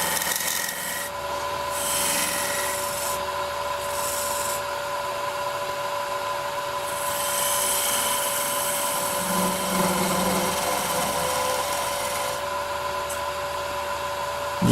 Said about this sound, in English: Just moving on to the 1/4 inch gouge here.